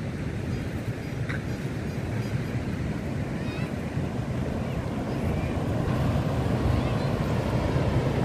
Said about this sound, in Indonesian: ini suasana di Pantai Sundet ya sahabat.